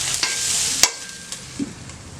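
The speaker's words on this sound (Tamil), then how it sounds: "நல்லா வதக்கி விட்டுருங்க" Broad beans being stir-fried in a pan for an egg poriyal, with a soft sizzle underneath and a few sharp clinks and scrapes of a spatula against the metal, close by.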